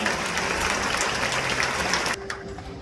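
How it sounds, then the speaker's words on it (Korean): Church congregation applauds to welcome baptism candidates, a full room of clapping for about two seconds that stops abruptly, leaving a quiet hum. "이큰 박수로 환영해 주시기 바랍니다"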